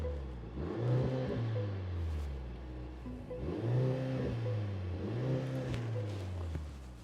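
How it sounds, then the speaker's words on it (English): A Mercedes GLC 43 AMG Coupe's engine revs up and accelerates in repeated low, rising surges heard from inside the cabin, with the drone building and easing through several gear changes. "Let's step on the gas a little."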